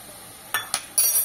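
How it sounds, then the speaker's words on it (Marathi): A spoon stirs dry fruits into carrot halwa in a metal pan, giving three quick, bright clinks against the pan's side and then a short scrape, close and clear with no talking. "त्याच्यानंतर ड्रायफ्रुट्स घेतलेले आहेत ते मिक्स करते।"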